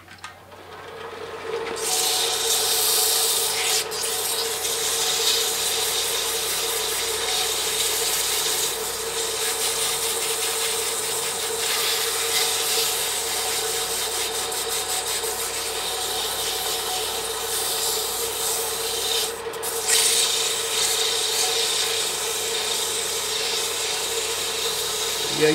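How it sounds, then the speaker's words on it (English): Sandpaper of 180 grit rubs steadily over a wooden coffee spoon, a continuous close scratchy hiss lasting the whole stretch with a few brief pauses in the strokes. "We'll go ahead and sand this."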